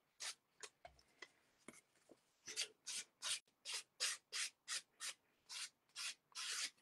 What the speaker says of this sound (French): je vais prendre ma lime